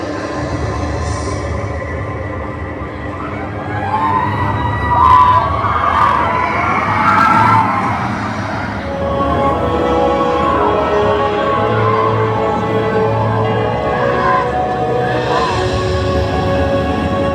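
A wing roller coaster train at Heide Park roars along its track, a loud rumbling rush that swells and fades with screeching wheel tones and faint distant riders' screams, mixed with park background noise.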